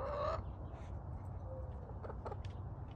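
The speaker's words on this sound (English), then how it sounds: "At that moment, while he was still speaking, the cock crowed." A rooster crows once at the start of a Holy Week pageant, a brief, bright call over a steady low room hum, followed by faint scattered noises.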